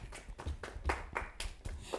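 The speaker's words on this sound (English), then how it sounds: "So a round of applause, please." Scattered clapping from a small group during a school quiz competition, the claps uneven and spaced out, fairly close, with room noise between them.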